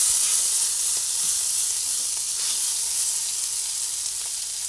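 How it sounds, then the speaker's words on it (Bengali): Chicken pieces fry in a pan over a lowered gas flame, producing a steady, close hiss of sizzling oil that runs unbroken and fairly loud, with no talking. "গ্যাসের ফ্লেমটা একটু কমিয়ে নিয়ে মাংসটাকে ভেজে নিচ্ছি"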